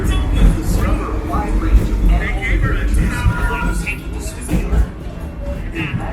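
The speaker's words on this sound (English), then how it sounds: "It's just a short train ride up to Rafiki's Planet Watch" Wildlife Express train at Disney's Animal Kingdom on its short run to Rafiki's Planet Watch, a steady low rumble and rattle of the moving cars with a voice talking over it.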